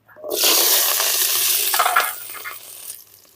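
Sliced shallots drop into hot sesame oil with a sudden loud sizzle and crackle. The noise stays strong for about two seconds, then fades to a softer bubbling.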